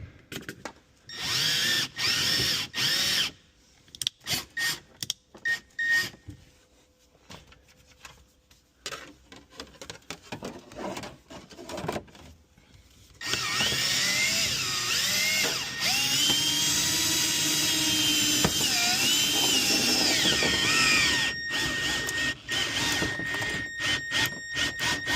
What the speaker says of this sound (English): Grab our drill, insert our bit, and make sure we're on our low speed setting.